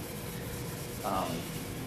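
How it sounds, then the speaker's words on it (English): Steady, soft rubbing of fine abrasive on a metal intaglio printing plate, an even scratchy hiss with one brief louder stroke near the end. "So we're basically sanding it even further and removing even more of our tooth."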